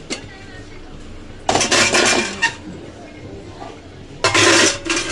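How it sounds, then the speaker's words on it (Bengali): A metal wok (kadai) is pulled out for frying bitter gourd, giving two short bursts of clanking and scraping metal, near and fairly loud, amid quieter kitchen sounds with a person talking. "তো উচ্ছে ভাজার জন্য আগে কড়াটা বার করে নিই।"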